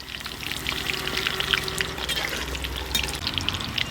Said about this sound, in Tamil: சிக்கன் வந்து அப்படியே எண்ணெயில் சூப்பராக புரிஞ்சுக்கிட்டு இருக்குது